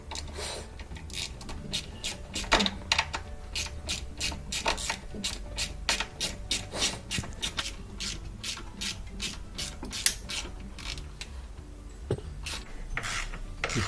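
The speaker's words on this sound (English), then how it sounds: "I'm going to remove these 2 10mm bolts." A ratchet wrench clicks steadily while two 10mm bolts are backed out of a Bosch washing machine motor, a close run of quick, rasping pawl ticks in rapid bursts with scraping metal handling.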